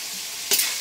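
Tuna pasta sauce is stirred in a frying pan over a soft steady sizzle, with one quick scraping stir near the end, close and brief, no talking.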